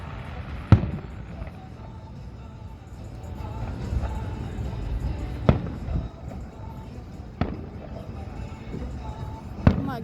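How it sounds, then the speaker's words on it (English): Fireworks bursting in the sky, with several sharp booms spaced a few seconds apart over a steady low rumble of distant noise, moderately loud and outdoors. "like tiny bombs that go up into the sky and put up light"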